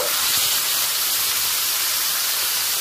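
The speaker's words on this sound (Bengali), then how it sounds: "বন্ধ করে দেওয়ার পর যতক্ষণ না নিজে থেকে গ্যাস ভেতরের যে বাষ্পটা আছে সেই বাষ্পটা বের হয়" Steam escapes from a cooking pot on a gas stove after the flame is turned off, a steady, loud, close hiss that holds without pause.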